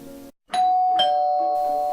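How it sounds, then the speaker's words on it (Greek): A doorbell rings with a clear two-tone chime after a brief silence, the bright tones sustaining and ringing out loud and close. "το κουδούνι χτυπά."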